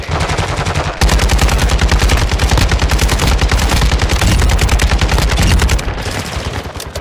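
Rapid, loud bursts of gunfire from a video game shooter with an RPK and sniper rifles in play, firing steadily from about the one-second mark to near the end with brief softer stretches either side.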